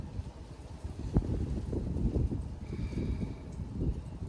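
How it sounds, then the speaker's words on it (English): Strong, fierce wind blows outdoors in a steady, rough rush, buffeting close and low with gusty swells throughout and no voices. "The wind's got quite fierce."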